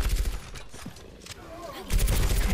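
A deployed turret in a video game fires bursts of rapid gunfire, with a dense, loud volley at the end. Game voices and talk are heard over it.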